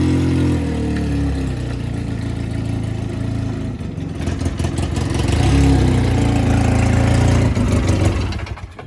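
Polaris 6x6 engine running close by, a steady low idle that rises into a stronger, louder rev partway through before easing off.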